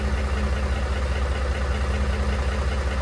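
A Ford F-150 4x4 pickup engine idles close by in two-wheel drive, steady, low and even, rumbling with no voices over it.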